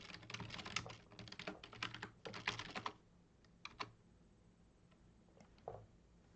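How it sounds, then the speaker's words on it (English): Rapid clicking of computer keys, dense bursts of typing at first, then sparser isolated keystrokes, close to the microphone over a faint background hum. "That's what I'm typing without the slash."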